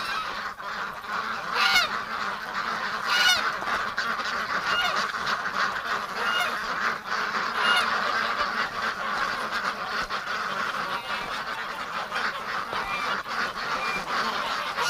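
A flock of ducks, including Muscovies, being herded to the barn on a winter day makes repeated honking quacks throughout, some near and loud, over a busy background of more birds.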